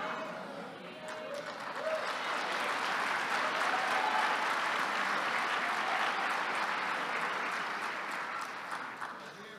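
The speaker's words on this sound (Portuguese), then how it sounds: "Vocês estão aplaudindo porque vocês querem" A church congregation breaks into sustained applause, a broad wash of clapping that swells, holds steady and then tapers off.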